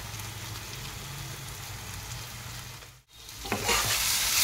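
Ground spices, cumin, coriander and Kashmiri chilli, sizzle in a pan while being stirred, a close steady crackle with scraping; a brief dip, then a brighter, louder sizzle surges.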